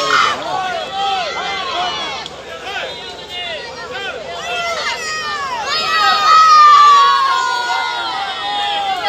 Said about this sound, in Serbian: ako možete jednim velikim aplauzom nagraditi ovo sve danas što je bilo